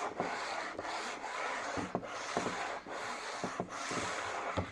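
Sandpaper worked back and forth across the fretboard of a Yamaha RBX 170 fretless bass, rhythmic scratchy rubbing strokes of about a second each, close and fairly loud, with soft knocks at each turn and no talking.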